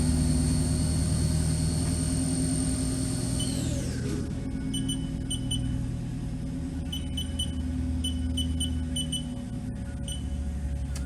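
A 2008 Haas VF1 CNC machine spindle spins at its 7,500 RPM top speed, a loud, steady high-pitched whine over a constant low mechanical hum that drops sharply in pitch partway through, with faint intermittent beeps.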